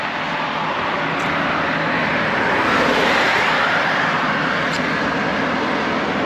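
Motorbike riding along a road on the way to the Garh Ganga fair, a constant loud roar of engine and rushing wind with no break and no voices.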